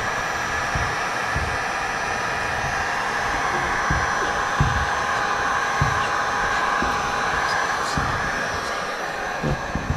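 A heat gun blows continuously while warming a soft plastic bait mold, a loud even whooshing hiss with a whining tone, punctuated by a few faint knocks and handling bumps; no one speaks.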